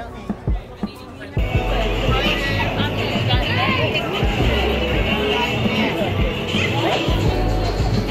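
A crowd of people chattering around Paddington, a dense, steady babble of many voices close by that starts suddenly after a few brief knocks and continues loudly throughout.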